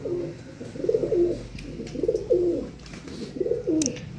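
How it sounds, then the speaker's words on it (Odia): A pigeon coos close by in soft, repeated phrases, four in all, with short pauses between them and only faint background noise. "ଇଏ ଆମ ଛୁଟକୁ ପାରା ପାଣି ପିଉଛି।"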